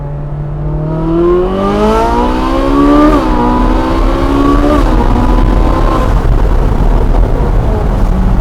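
A Ferrari 458 Speciale's engine revs hard and loud, its pitch climbing steeply through the first few seconds, then holding high with brief dips, close and alone with no talking.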